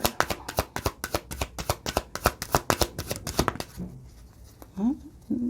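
Tarot cards are shuffled in rapid, crisp riffling slaps, close and steady for several seconds, then stop with a couple of light card flicks as two cards fall out; a voice is heard speaking near the end.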